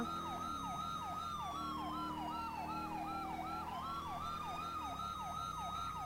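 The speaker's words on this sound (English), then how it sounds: "Look at the second siren going." A police car siren in GTA V with the LSPDFR mod wails in a fast, repeating yelp pattern, loud and close, with a second siren sweeping slowly underneath and a steady engine drone.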